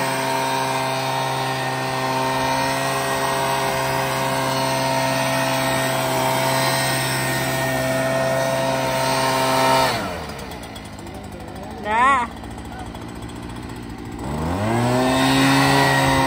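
A leaf blower runs at a loud, steady drone for about ten seconds, then cuts out, leaving a brief rising whine. It spins back up to full power near the end.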